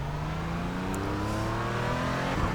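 A Porsche Cayman GT4 racing at Sebring in the iRacing sim sends out a steady engine drone, its harmonics climbing smoothly as it accelerates through the lap, close and continuous with no talking.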